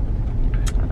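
A car speeding along a main street, engine rumble and tire noise passing at steady volume with a brief brighter hiss as it goes by, no talking.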